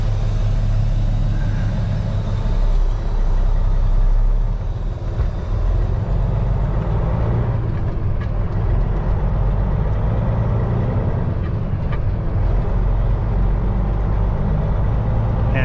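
A truck pulling a trailer with a lift axle on its tridem creeps forward and then reverses, its heavy diesel engine rumbling steadily and close by throughout, with no talk over it.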